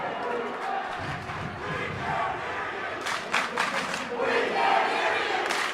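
Rival crowds at a Cohasset vs Bristol Plymouth boys basketball MIAA tournament semifinal game roar and chant against each other in a gym, a dense, steady wash of cheering that swells louder toward the end.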